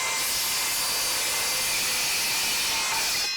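A Milwaukee M18 Fuel 7-1/4-inch cordless circular saw cuts through plywood, a loud, unbroken whirring rip that holds steady for a few seconds.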